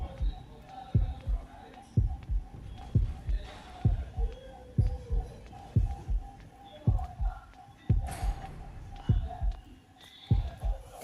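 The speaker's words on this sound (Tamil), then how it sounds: "ஹார்ட் பீட் ரொம்ப அடிக்குது" A steady, thumping heartbeat sound effect pulses through Horrorfield gameplay, beating regularly about once per second in the foreground, with a low hum and faint game ambience underneath.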